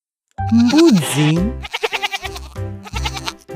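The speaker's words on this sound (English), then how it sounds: "Goat." A goat bleats loudly and close, a long wavering cry followed by a series of shorter stuttering bleats, with no talking.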